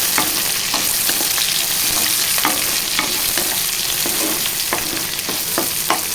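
Chopped ivy gourd and green chillies fry in oil, giving a loud, continuous close sizzle with a regular rhythm of spoon stirs and scrapes running through it.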